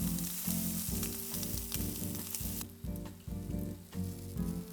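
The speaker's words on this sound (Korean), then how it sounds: "예열한 프라이팬에 약불로 구워줍니다" Ham and rice cake skewers sizzle and fry on low heat in a preheated frying pan, with a steady crackle and a few light scraping or stirring taps.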